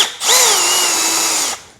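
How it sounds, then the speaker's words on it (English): A power drill bores a quick pilot hole during a BMW 340i fuel starvation kit install, a single loud, steady high-pitched whine that spins up, holds for over a second, then winds down. "I'll start off by drilling a quick pilot hole just to get everything centered"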